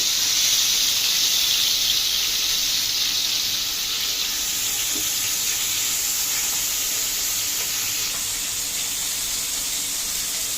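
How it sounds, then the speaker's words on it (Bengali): A steady sizzling hiss of poa fish frying in hot oil continues throughout, fairly soft and even, with no talking. "এখানে মাছটা ভালো করে ভেজে নেব।"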